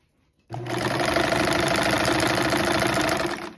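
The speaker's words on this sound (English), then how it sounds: "we're going to take a couple stitches here doing zigzag" A Kenmore Model 158.480 sewing machine stitches a zigzag in a fast, steady mechanical rattle for about three seconds, close by and loud, starting abruptly from silence.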